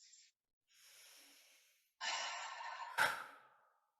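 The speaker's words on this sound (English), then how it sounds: "Taking a deep breath with me now." A slow deep breath in a guided ceremonial ritual setting: a soft airy inhale, a pause, then a fuller, louder exhale with a brief sharp puff near the end, close and alone without talk.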